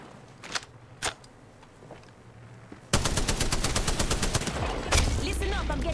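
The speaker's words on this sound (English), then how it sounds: "Listen up, I'm getting shot at." Gunfire in the Apex Legends video game: a few scattered shots early on, then a loud sustained burst of rapid automatic fire from about three seconds onward, close and dense, with brief game voice callouts underneath.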